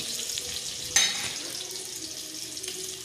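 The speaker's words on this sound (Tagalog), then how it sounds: "una natin gawin ay gisa natin ang ating uh, bawang" Garlic sautéing in a pan for bachoy, a steady close sizzle with a sharp burst of crackling about a second in as the cloves hit the hot oil, then an even hiss to the end with no talk.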